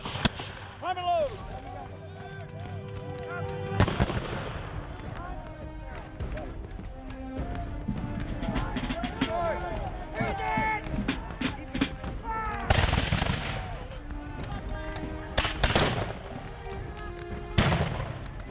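Muskets fire in volleys at a Revolutionary War re-enactment of the 1778 Battle of Monmouth: several sharp, loud cracks ring out spaced seconds apart, with shouted commands and talk in between.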